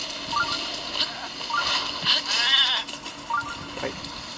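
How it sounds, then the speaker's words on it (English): A goat in The Legend of Zelda: Breath of the Wild gives several short nasal bleats spaced about a second apart, heard over game background noise and faint voices. "A goat."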